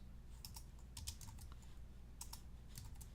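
Quiet, irregular clicks of a computer keyboard as someone types code, keystrokes arriving in short bursts with small pauses, faint and without talk.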